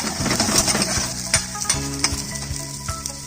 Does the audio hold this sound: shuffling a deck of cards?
no